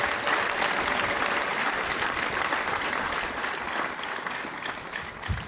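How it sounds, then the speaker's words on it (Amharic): A church congregation at a prayer and teaching service claps hands vigorously in a continuous, dense wash of applause that stays loud throughout before easing slightly at the end. "እጆቻችሁን በደንብ አጨብጭቡ"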